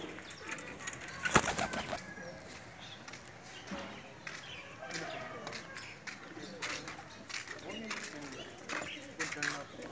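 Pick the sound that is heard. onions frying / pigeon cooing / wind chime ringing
pigeon cooing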